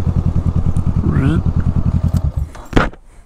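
A Honda Rebel 500 motorcycle engine thumps in rapid, even pulses up close, with a brief rising rev midway before the sound tapers off.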